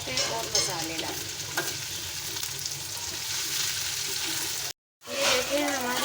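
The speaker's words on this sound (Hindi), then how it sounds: "आलू और हरी मिर्चियाँ हमने साथ ही डाली। अब इसको हम हल्का सा फ्राई करेंगे" Potatoes, green chillies and okra fry in an oily pan with a steady, loud broadband sizzle and some stirring. The sound cuts out for a moment near the end, then returns, with a faint voice in the background.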